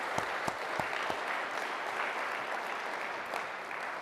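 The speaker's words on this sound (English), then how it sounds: "Let's give the people who made this all happen from this institution a big round of applause as well." A crowd at a speech on unalienable rights in Philadelphia applauds the organizers, giving sustained, fairly soft and even clapping heard from some distance, with a few sharper claps near the start.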